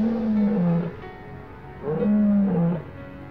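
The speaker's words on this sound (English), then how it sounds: "The lion's shrill roar echoed through the forest" Two deep, drawn-out lion roars, each swelling and falling over about a second, separated by a short gap and heard close and loud with no talk.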